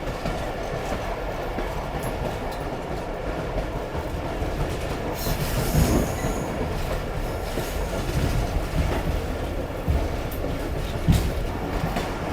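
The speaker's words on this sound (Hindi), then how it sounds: "इस वक्त हम पहुंच रहे हैं यारू रेलवे स्टेशन पर" Train rolling into a remote railway station near the Afghan-Pakistan border, a steady loud rumble with faint clickety-clack and occasional wheel squeal throughout, no talk.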